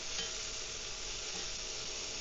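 Coconut milk and rice sizzle in a pan over high heat, a soft, steady hiss with faint stirring, quiet and brief, with no voices.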